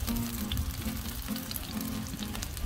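Hot oil sizzles steadily as orange chicken pieces fry in batches on a Blackstone griddle, a continuous close crackling hiss with a low hum underneath and no talking.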